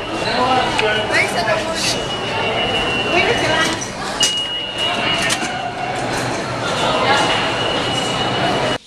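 Rumbling New York subway train noise at Times Square with rattling and occasional metallic squeals, steady throughout, with people talking under it.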